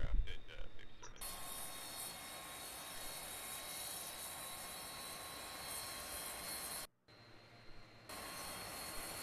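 Number 2 turboprop engine of a Dash 8 Q400 spooling up in Flight Simulator X, a steady loud broadband roar and whine holding evenly, cutting out briefly and then resuming.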